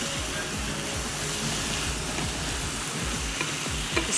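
Tomatoes and vinegar sizzle in a hot pan while being stirred for an Asian fusion pasta, a loud, constant frying hiss with repeated low scraping strokes of the spoon throughout.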